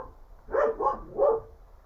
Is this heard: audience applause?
no